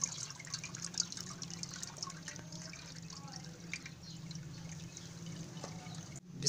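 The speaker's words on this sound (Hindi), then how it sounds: "हम ठंडा पानी इसमें से इसके ऊपर डाल लेते हैं" Cold water poured into a jug, a faint trickle and dribble of liquid with scattered drips and small splashes, soft and close, ending in a brief louder splash.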